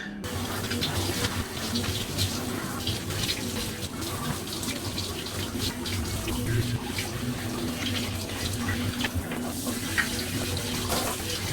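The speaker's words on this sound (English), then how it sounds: "Now it's time to rinse." Tap water running continuously to rinse hair dye out of hair, a steady close splashing gush that lasts throughout with slight shifts as the hair moves under the stream.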